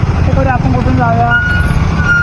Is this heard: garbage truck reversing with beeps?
yes